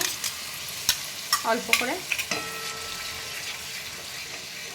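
Elephant foot yam curry with yogurt fries and is stirred in a pan, giving a few scraping spatula strokes and a wet bubbling squelch over a steady sizzle, close by, with a brief spoken phrase.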